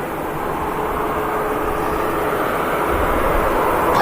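Ryanair airliner arriving from Mallorca at Manchester Airport, a steady broadband jet roar that swells slightly louder toward the end, heard from a distance without talk.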